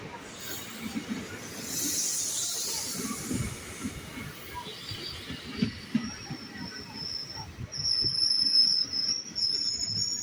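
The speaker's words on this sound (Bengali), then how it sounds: "তাই ট্রেন এখান থেকে পুরো বাঁক নিয়ে দিনহাটার দিকে প্রবেশ করলো।" Train rumbling along the railway near New Gitaldah station by the Bangladesh border, curving toward Dinhata; steady low rolling wheel noise with hissing air and a rising high metallic wheel squeal toward the end, fairly close.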